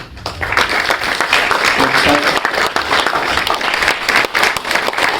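Audience applause after a Hindi stage play, a dense sustained burst of clapping filling the hall at close range, with faint voices mixed in beneath it.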